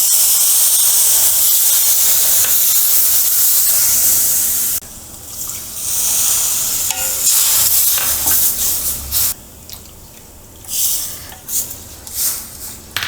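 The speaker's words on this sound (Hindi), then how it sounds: "तो अब हम इसमें डाल देते हैं जिस कटोरी से सूजी मेज़र किया था उसी कटोरी से 3 कप पानी।" Water poured from a measuring bowl into hot roasted semolina for rava kesari bursts into a loud, close steam hiss and sizzle, which fades after a few seconds into softer bubbling and faint utensil clinks.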